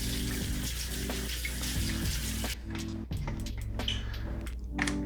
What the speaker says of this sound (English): We're gonna fill it up with some hot water here.